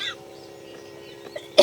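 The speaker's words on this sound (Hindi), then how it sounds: "तभी खांसी आई गई" After a quiet stretch, a woman in a domestic Awadhi comedy scene lets out one short, loud cough right at the end.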